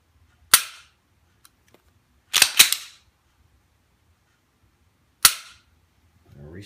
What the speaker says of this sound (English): I'm going to show the trigger on a stock Glock 19 Larry Vickers